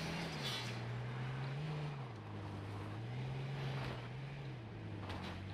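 A skinned car drives in the H1Z1 video game, its steady engine drone rising and falling slightly in pitch under a constant hiss of wind, continuous and close with no talk.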